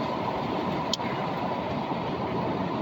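A truck engine runs steadily at driving speed, a constant broad low rumble with one faint click near the start and no voices.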